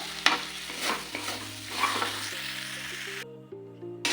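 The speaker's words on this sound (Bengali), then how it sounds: "মশলা কষানো হচ্ছে" Ground turmeric and chopped tomato fry and get stirred in a pan for a chicken dish, giving a steady close sizzle with scraping stirs over a soft stepped musical drone that cuts out briefly near the end.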